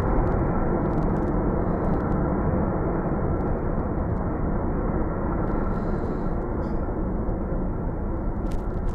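Passenger airplane, missing a left wheel that fell off after takeoff, landing on a runway: a continuous heavy roar of engines and rolling, loud and steady throughout.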